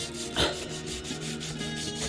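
A part of a cheap Harley Benton 12-string acoustic guitar is sanded by hand, giving close, quiet, steady rhythmic rubbing and rasping strokes on wood.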